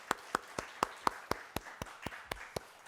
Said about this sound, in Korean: 우리 청년들을 우리 격려하면서 우리 축복을 박수 한번 하십시다